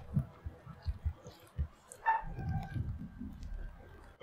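Thumping heartbeat effect from the horror video game House of Ashes, several low pulses in an irregular rhythm with a brief tonal chime midway, fairly faint against a low hum.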